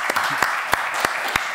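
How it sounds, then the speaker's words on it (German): Applause from an audience, a steady wash of clapping with a few sharper claps standing out, fairly close and continuous. "Aber erstmal einen kleinen Applaus bitte"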